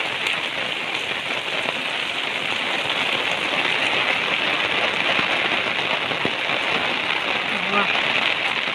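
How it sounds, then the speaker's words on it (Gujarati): Heavy rain pours steadily in a dense, even hiss of drops striking surfaces, close and loud throughout with no break. "બહુ ટાઈમે આવો વરસાદ આવ્યો।"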